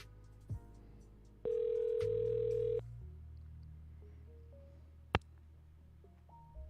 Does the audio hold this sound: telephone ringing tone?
yes